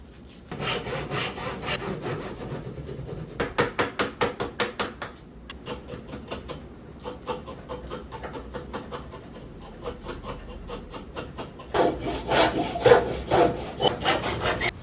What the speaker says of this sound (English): I'm just going to cut a half lap joint on one of them.